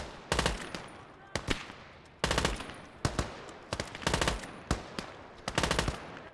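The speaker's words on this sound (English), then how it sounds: "it's really just the infantry weapons, machine guns, but they do sound really good" Short bursts of rapid machine gun fire in a World War II real-time strategy video game crackle in quick succession, loud and close, with brief pauses between volleys.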